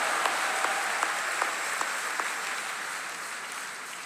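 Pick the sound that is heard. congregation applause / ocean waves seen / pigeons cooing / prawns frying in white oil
congregation applause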